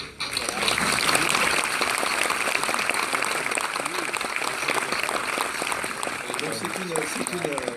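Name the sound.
audience applause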